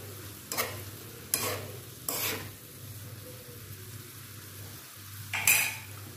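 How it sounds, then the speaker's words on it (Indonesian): Stir-frying water spinach seasoned with salt, mushroom stock and oyster sauce, heard as several sharp scraping strokes of a utensil against the pan over a low sizzle, with no talking. "Kita aduk-aduk"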